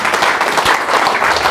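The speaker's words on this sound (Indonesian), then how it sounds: "Berikan sorak-sorai buat Tuhan yang dahsyat." A church congregation bursts into dense, loud applause and cheering, a steady roar of many hands clapping with voices mixed in, lasting under two seconds.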